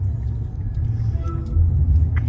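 Low, steady engine rumble from inside a moving car, heard through a video call, swelling slightly toward the end with faint background noises.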